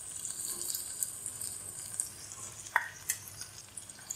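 Chopped tomatoes with salt and spices stirred in a pan for butter chicken: a soft, steady sizzle with light stirring scrapes and a couple of brief clinks, fairly quiet and without speech.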